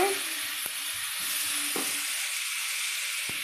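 Potatoes sizzle steadily in hot oil in a wok, a continuous close hiss with a few soft clicks and knocks, right after fish was fried in the same pan.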